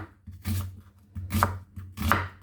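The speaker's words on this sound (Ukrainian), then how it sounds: "Нарізаємо цибулю" Three crisp knife chops on a cutting board as an onion is cut finely, close and fairly loud, each a sharp thud spaced about half a second to a second apart, with no talk.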